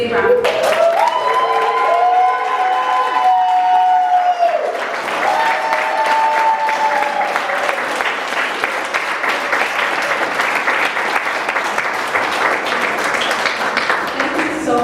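Audience applause for the fellows at an event on engaging disabled audiences, dense sustained clapping over about fifteen seconds, with a voice speaking over the start.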